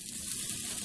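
Sliced filling for cheese steak frying in a pan, browning and turning translucent, giving a continuous close sizzle with no voices.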